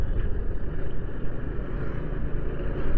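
Vehicles rumble and pass along a busy market street in Alathur, a low, steady traffic drone with fluctuating engine noise close by.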